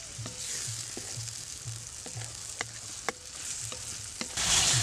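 Spice paste sautés in hot oil for an amudi fish tel jhal, a steady sizzle broken by repeated scraping stirs of a spoon against the pan and a sharp clink, with the frying swelling louder at the end.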